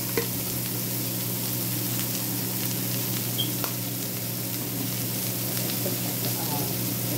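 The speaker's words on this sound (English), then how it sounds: "And just stir fry that." Peppers seasoned with garlic salt, onion powder, Italian seasoning and pepper fry in a pan with a steady, moderately loud sizzle and occasional faint scrapes of stirring throughout.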